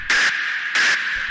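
Two bursts of harsh, distorted noise from an industrial hard techno track, each roughly a quarter second long, separated by a short gap, with a steady gritty tone humming underneath throughout.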